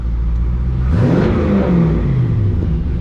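A 1970 Chevelle's engine idles, then gives a single quick rev-match blip that rises and falls back to a steady idle, loud and close.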